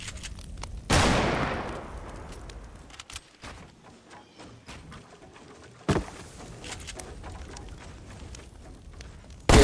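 Sniper rifle fire in a video game: a few sharp, loud cracks spaced several seconds apart, each trailing off into a decaying echo, with quieter scattered clatter in between.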